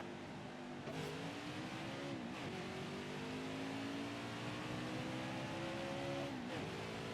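A race car engine in NASCAR Heat 5 drones steadily at high revs, its pitch climbing through the gears with brief dips at each shift, loud and continuous with no voices.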